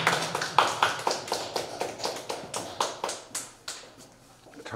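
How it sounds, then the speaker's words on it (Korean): Applause from an audience at an open poetry recital for a reciter about to perform Na Tae-ju's poem, heard as a steady run of nearby sharp claps that slowly thin out. "큰 박수 부탁드리겠습니다"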